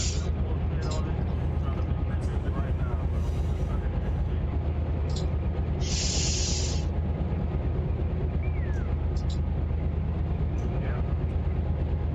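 An intermodal freight unit train in the RUN8 simulator climbs a hill at about 27 mph, a steady low diesel engine drone and rumble with occasional hissing bursts, and a person talks over it at times.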